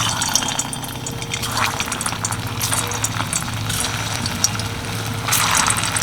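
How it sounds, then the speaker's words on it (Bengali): Soybean kofta balls drop into hot oil in a pan for shallow frying, giving a steady, close bubbling sizzle that swells briefly near the end, with no voices. "তেল গরম হয়ে গেছে এবার কপ্তাগুলো দিয়ে দিচ্ছি"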